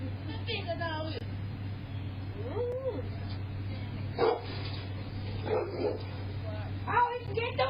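A pitbull barks and yips in short bursts at a moderate distance, scattered over a constant low hum, with people talking throughout.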